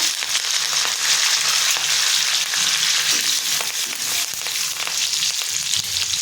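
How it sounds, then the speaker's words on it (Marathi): Minced garlic and curry leaves crackle and sizzle steadily in hot oil for a Maharashtrian pumpkin dish, a dense, close, continuous frying hiss with occasional stirring scrapes and no talk. "आता ह्याच्यामध्ये मी बारीक कट करून घेतलेला लसूण टाकते, कढीपत्ता"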